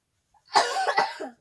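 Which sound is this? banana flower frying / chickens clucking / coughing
coughing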